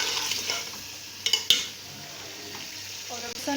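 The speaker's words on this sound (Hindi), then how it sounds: "ऑयल में हमने चिकन फ्राई होने के लिए रख दिया है।" Chicken frying in oil in a pan for white chicken karahi, a steady soft sizzle with a few sharp clinks of a utensil against the pan partway through.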